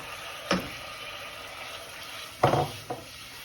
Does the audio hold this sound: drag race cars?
no